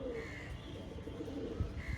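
Pigeons kept for sale coo softly in a brief, faint murmur against a low background hum.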